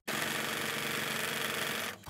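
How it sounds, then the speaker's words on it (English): A sewing machine stitching a project bag at its fast setting gives a steady, rapid mechanical whir for about two seconds, then stops abruptly. "My sewing machine has three speeds, slow, medium, and fast, and I generally always have it set to fast."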